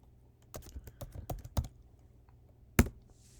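Keys clatter on a computer keyboard as a web address is typed, a quick burst of about eight clicks followed after a pause by one sharp final keystroke, likely Enter.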